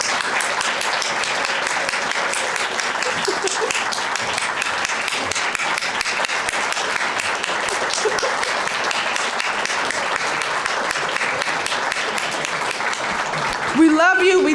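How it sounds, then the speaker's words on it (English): A dense, sustained round of applause from an audience honoring former Oak Ridge Bombers baseball players at a talk, steady and loud for about fourteen seconds with a brief voice rising at the very end. "can we just stop right here and give them a round of applause"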